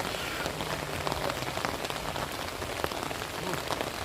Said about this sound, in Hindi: बारिश भी आ रहे।